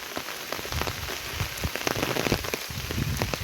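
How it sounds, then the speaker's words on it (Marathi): Rain falls steadily on a road in rural Konkan, a dense close patter of drops hitting surfaces with no voices or other sounds. "पाऊस पण पडतो त्याच्यात गरवतो."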